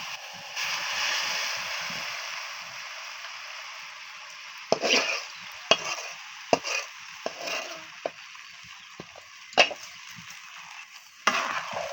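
Hot oil poured over a coriander leaf pickle hisses and sizzles steadily, followed by a few sharp clinks and taps of utensils against the container.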